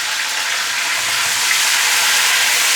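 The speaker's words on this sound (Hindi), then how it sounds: "टमाटरों को कर लिया है हमने हल्का सा सौटे" Chopped tomatoes sautéing lightly in a pan for tandoori keema masala, giving a steady, even sizzle and frying hiss that runs unbroken and fairly loud from start to finish with no voices.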